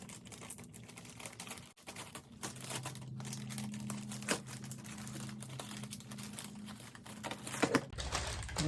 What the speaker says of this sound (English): now what I'm gonna do is I'm gonna cut the side of it